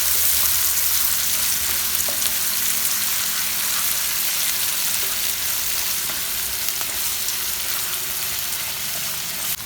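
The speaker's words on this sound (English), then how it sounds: "Now add in the chopped onions and fry this nicely till it is nice and golden." Chopped onions fry in a pan with a loud, constant sizzle that continues unbroken throughout.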